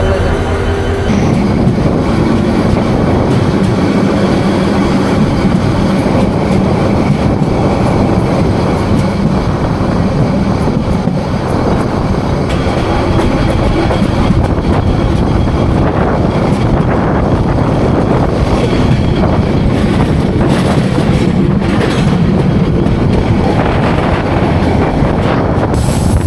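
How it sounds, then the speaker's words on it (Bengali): The Parjatak Express train rolls into Lohagara railway station in Bangladesh, a steady, loud rumble of wheels and carriages with rushing wind noise that holds constant throughout. "পর্যটক এক্সপ্রেস ট্রেন লোহাগড়া রেলওয়ে স্টেশনে প্রবেশ করলো।"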